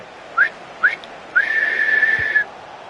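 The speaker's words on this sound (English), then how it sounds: "There is the final whistle." A referee in the video game EA Sports FC 26 blows the final whistle at the end of a Manchester United match: two short peeps, then one long, steady blast, loud and clear over faint crowd noise.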